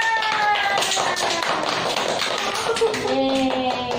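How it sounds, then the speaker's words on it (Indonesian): A classroom of pupils claps hands together in a steady patter of many quick claps, with children's voices and chatter mixed in throughout. "Tepuk tangan."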